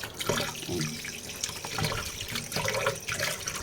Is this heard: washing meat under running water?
yes